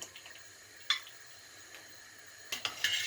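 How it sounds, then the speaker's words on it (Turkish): A metal strainer stirs manti boiling in a pot with a little oil added, giving quiet watery bubbling broken by a single clink and then a cluster of metallic scrapes and knocks against the pot. "Şöyle süzgecimle de şöyle bir karıştırıyorum."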